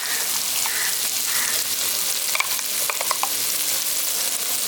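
A white mustard paste ground with salt and chili is stirred into an okra curry sizzling in a pan, giving constant close frying crackle with soft scraping strokes of a spoon.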